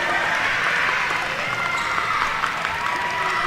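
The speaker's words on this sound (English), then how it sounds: "Crowd getting loud here at Spring Hill Middle School." A loud, steady crowd roars and claps continuously in a middle school gym during a volleyball match between South Lawrence and Spring Hill, a dense wash of cheering with no break.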